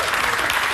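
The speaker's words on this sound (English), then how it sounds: "the audience is clapping for this" A live studio audience applauding during a political talk segment, a dense, steady wash of clapping that stays loud for the whole short moment.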